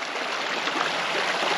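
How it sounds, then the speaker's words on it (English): Small creek flowing in autumn, a steady, close hiss of running water over a short stretch with no voices. "we're gonna start on this little creek."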